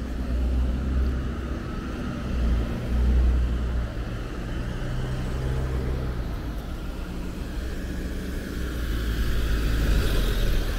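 A Japanese school bus rolls along an Osaka street, its low engine rumble swelling and fading steadily over several seconds at moderate distance amid street ambience.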